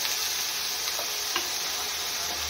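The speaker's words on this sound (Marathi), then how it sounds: "तर यामध्ये आपण विनेगर टाकणार आहोत 1 चमचा" Fried rice sizzling loudly in a hot pan as a spoonful of vinegar goes in, a dense steady hiss with a few faint ticks of the spoon, close and without talk.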